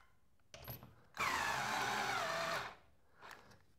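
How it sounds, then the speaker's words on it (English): A power driver snugs lag bolts into wood studs while mounting a stud-bar pull-up bar, giving a short burst then a steady whirring run of about a second and a half, close and fairly loud, followed by a brief quieter buzz. "With the crossbar tight, now it's time to snug up those lag bolts."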